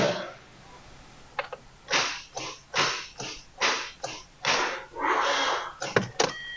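A Hyundai engine with a soft seize is cranked in a series of about eight short, rising starter bursts, each cutting off abruptly as it locks up, heard close with no talk.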